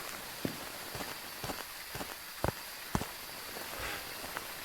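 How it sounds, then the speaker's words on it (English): Steady rain in the Phasmophobia video game, a constant hiss of rainfall on surfaces with scattered heavier drops and soft thuds tapping irregularly through it. "All I hear is rain."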